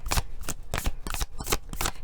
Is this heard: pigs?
no